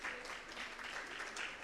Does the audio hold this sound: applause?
yes